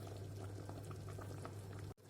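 Sorrel soup boiling steadily in a pot on the stove, a continuous close bubbling and simmering that runs without pause before cutting off abruptly near the end.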